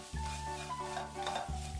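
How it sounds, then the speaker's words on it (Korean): Small dry anchovies sizzle and rustle in a pan over low heat as they are stirred, with a low hiss running underneath the scraping. "불의 상태는 계속 약불을 유지하고 멸치가 바삭이도록 볶아줍니다"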